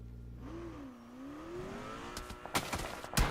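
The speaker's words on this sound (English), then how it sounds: "They can hear those shots in the distance." Gunfire in a PUBG Mobile esports match: a vehicle engine whines and revs, then a few sharp, fairly distant shots crack out near the end.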